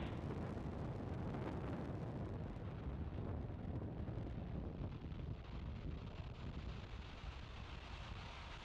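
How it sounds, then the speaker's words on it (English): SpaceX Falcon 9 rocket lifting off from Vandenberg Space Force Base on the NROL-153 mission, a steady, dense broadband roar that holds loud and unbroken from start to finish, with no voices over it. "Liftoff of the Falcon 9"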